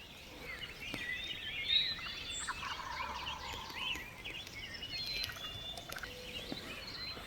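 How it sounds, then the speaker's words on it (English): Wild turkeys gobble in open country during a late-season public-land hunt, several rattling calls overlapping at moderate distance over a steady outdoor hiss, with two birds answering each other. "There's 2 of them gobbling now."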